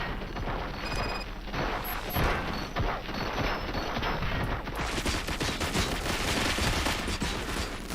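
Rapid, dense gunfire from RoboCop: Rogue City runs loud and continuous as a crackling barrage, with no clear talk over it.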